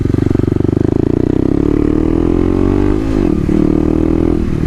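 A 2018 Kawasaki KLX250 motorcycle engine chugs with a rapid pulsing idle, then climbs and dips in pitch as it revs and rides, loud and close with no talking.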